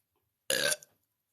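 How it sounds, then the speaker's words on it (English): A girl lets out a single loud, raspy burp lasting about a quarter second, close and alone, followed by silence. "You super burp."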